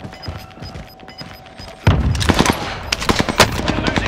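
Gunfire in a shooter video game starts as light, scattered pops under a faint tone, then bursts into loud, rapid automatic volleys of close shots.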